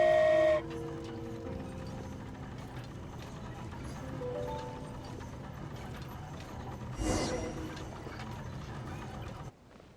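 A train in the video game Genshin Impact runs along with a steady mechanical clatter and rhythmic clicking, moderately loud and continuous, with a brief hissing swell partway through before it cuts off at the end.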